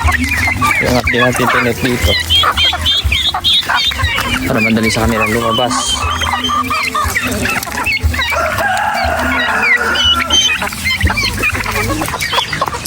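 Hens and chickens cluck and squawk continuously around a farmyard, with a rooster crowing at times, while a person talks over the flock.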